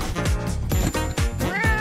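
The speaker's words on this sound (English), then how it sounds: "looks like Kitty wants to play too" A cat meows a few times amid busy background music, the short calls close and fairly clear over the musical backing.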